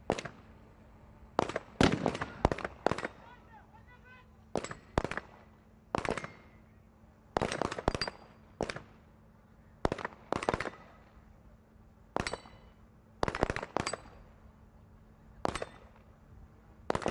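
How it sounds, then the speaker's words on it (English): Gunshots ring out at the UAE SWAT Challenge 2024 competition, sharp loud reports in irregular clusters of single and rapid double shots, separated by quiet pauses across the range. "There goes the first shot, so they can now advance towards that pistol pen."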